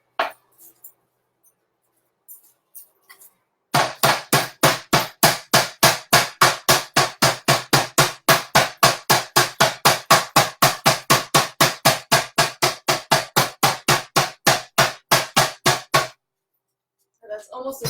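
A meat mallet pounds pork flat on a bamboo cutting board in a rapid, even series of sharp, loud knocks lasting about twelve seconds, with brief quiet before and after.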